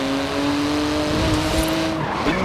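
A Porsche GT2 RS with a titanium exhaust, about 700 horsepower and rear-wheel drive, in the Forza Horizon 4 racing game: the engine drones steadily and loudly, with tire squeal rising briefly near the end.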